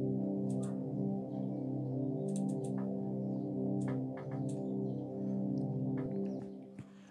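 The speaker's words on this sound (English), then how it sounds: "So it's pad number one from GMS," A sustained synth pad, pad number one from GMS in FL Studio, holds layered chords for several seconds, with brief bright, clicky percussive ticks scattered over it.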